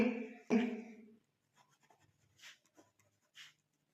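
Chalk or marker writing on a classroom board during a Class 9 geometry lesson, heard as a few faint, scratchy strokes in short bursts after a voice speaks at the start.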